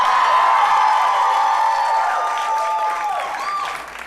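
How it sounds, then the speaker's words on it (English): Live audience at a podcast taping at Largo claps in a sustained round, with whoops and voices overlaid, tapering off slightly toward the end. "people are clapping"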